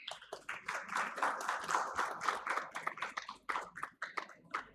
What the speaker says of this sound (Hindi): जोरदार तालियों से अभिवादन कीजिए